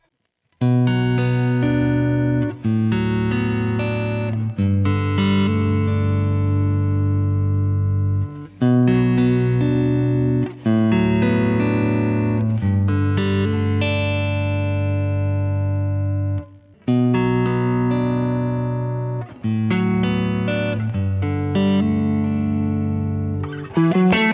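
Electric guitar, a Fender Stratocaster with a humbucker pickup, strums full chords in three sustained phrases with brief pauses between, loud and close with a warm, thick tone.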